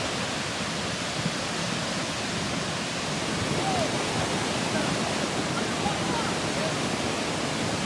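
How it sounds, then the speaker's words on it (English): Floodwater rushes through a Colorado town over fire-scorched ground, a loud, steady, unbroken roar of churning water that fills the scene from start to finish. "water rushed in"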